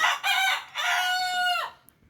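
A rooster at a home chicken farm gives one loud, close crow, a stuttering start followed by a long drawn-out note that cuts off sharply, then quiet.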